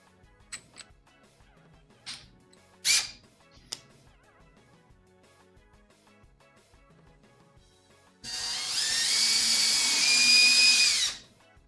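A 9/16 drill bit bores into thin wood: a few scattered clicks and knocks, then a loud, sustained whine of the power drill for about three seconds before it stops.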